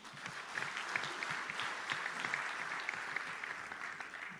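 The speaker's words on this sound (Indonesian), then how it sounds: "Tepuk tangan dulu." Distant, faint applause from an audience at a gathering forms a dense, continuous patter of many hands clapping with no breaks.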